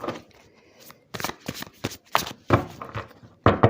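Tarot cards are shuffled by hand, giving a series of quick, crisp riffling and slapping bursts with short gaps between them, close and clear.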